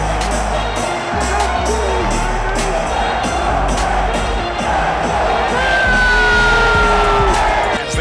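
NBA playoff arena crowd roaring and cheering during a Knicks–76ers Game 4, a loud dense wall of voices swelling toward the end, with a commentator talking over it.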